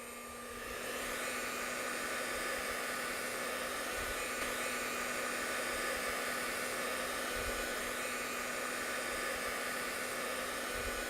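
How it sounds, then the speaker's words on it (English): A hair dryer blows a steady jet of air holding a ping pong ball aloft, giving a continuous, loud whooshing hum with a faint electrical drone, unbroken for the whole stretch with no voices. "Let's have a look at a ping pong ball being supported by a jet of air, again supplied by our hair dryer."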